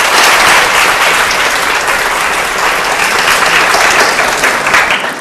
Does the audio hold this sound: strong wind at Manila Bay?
no